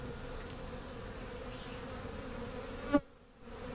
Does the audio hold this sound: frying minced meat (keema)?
no